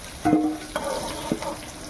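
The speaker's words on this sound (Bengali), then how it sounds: "মাছগুলো একটু ভেজে নিই।" Rohu fish pieces frying in hot oil in a pan, with a few short sizzling bursts and stirring noises at close range, no talking.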